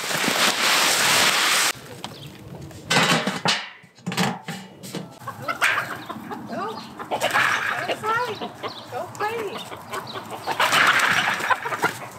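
Chickens cluck and squawk in bursts over a steady background hum, with people talking now and then amid the birds.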